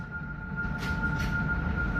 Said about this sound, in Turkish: Evet, otomatik olarak kapanıyor.